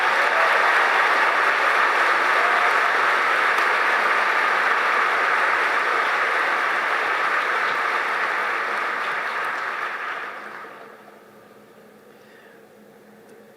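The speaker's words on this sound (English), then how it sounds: "Could we please have a round of applause for our summa cum laude graduates?" A commencement crowd applauds summa cum laude graduates of the Class of 2022, a dense, steady wash of clapping that holds for about ten seconds before quickly fading out.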